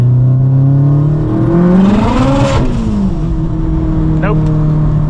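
A car with a turbocharged engine revs hard on a launch in light rain, the pitch climbing sharply, wavering as the tires lose grip, then dropping; loud and close throughout.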